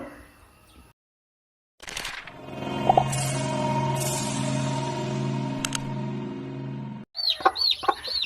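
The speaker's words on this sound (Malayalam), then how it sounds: "നമ്മുടെ അറുപതാം കോഴിയിലെ ഒരു കോഴി അതിന്റെ കുഞ്ഞുങ്ങളായിട്ട് ഇവിടെ നിൽക്കുകയാണ്" A hen of a local Kerala breed clucks among her newly hatched chicks: after a short silence comes a long, drawn-out vocal call, then rapid high peeping from the chicks at the end, close by, with no talk.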